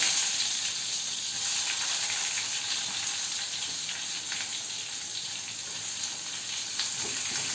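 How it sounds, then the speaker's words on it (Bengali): Cumin, dried red chili and onion hiss in hot oil in a home kitchen, making a dense, continuous, fairly loud sizzle without pauses or talking. "তেলটা গরম হয়ে গেছে। এবার দেব আমি জিরে, শুকনো লঙ্কা, এবার দিয়ে দেবো পেঁয়াজ।"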